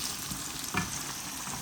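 Onions sizzling as they fry in oil in a pan, a steady hissing crackle with one brief scrape of stirring near the middle, close and even throughout.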